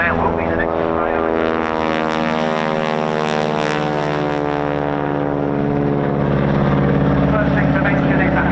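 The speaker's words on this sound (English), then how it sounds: "This aircraft just getting airborne now will be the next display item." A North American Harvard propeller aircraft takes off at an air display, its engine giving a loud, steady, rasping drone that holds strong and close for the whole stretch.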